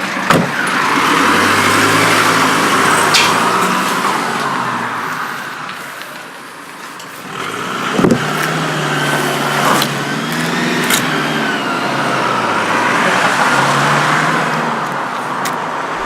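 A rusty four-wheel drive pulls away on a road in Wales. Its engine and tyre noise stay fairly loud and steady for most of the stretch, with a brief dip partway through and no voices.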